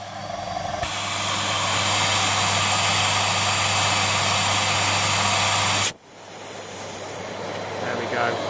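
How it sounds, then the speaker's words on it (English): A Siemens Z6.0 Power 2500W bagged cylinder vacuum cleaner running with strong suction, a loud steady whooshing roar with a low hum, then the tone abruptly shifts to a high whistle as the relief valve opens when the hose is obstructed. "we can hear the suction relief valve opening there when I obstructed the hose"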